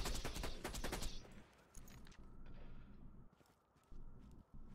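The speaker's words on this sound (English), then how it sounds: "Thought I just heard someone shoot." Gunfire in the Borderlands 2 video game: a rapid burst of shots opens, then sporadic distant pops and footsteps follow under a low ambient background.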